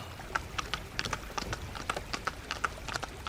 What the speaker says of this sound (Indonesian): Kereta kuda mewah berhenti di depan kapalnya, diikuti 4 pengawal penunggang kuda dan 6 pengawal pejalan kaki.